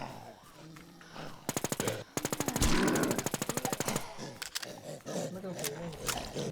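Machine-gun fire in the zombie survival game Infestation The NewZ (WarZ) rattles out in two long, rapid, loud bursts, with excited voices talking before and after the shooting.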